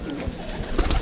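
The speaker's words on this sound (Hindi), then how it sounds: "नए कबूतर हैं तो सबको बाहर निकालना है।" Pigeons coo softly in low, throaty murmurs close by, a brief burst of gentle burbling with some faint rustling.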